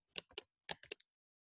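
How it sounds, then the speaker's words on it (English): A few sharp computer keyboard key presses in two quick clusters, a Control-and-equals shortcut being pressed, close and clear with silence after. "hold down the control button and equal sign at the same time"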